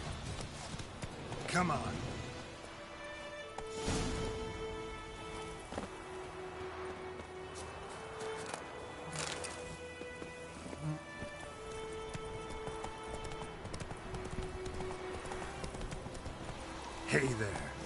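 Roach, the horse in The Witcher 3, gallops with a running clip-clop of hooves under game ambience, broken by a few louder thumps, while a voice speaks briefly over it.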